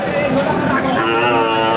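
A cow moos loudly and steadily at close range at a livestock market, with a busy crowd murmuring in the background.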